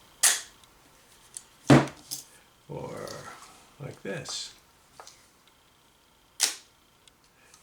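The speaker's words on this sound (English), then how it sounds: "you get a shutter speed that's just the shutter, sounds like this" Shutters of Nikon S2 and Canon IID rangefinder cameras fire with sharp, quick clicks, a few distinct snaps spaced seconds apart, with a voice talking between them.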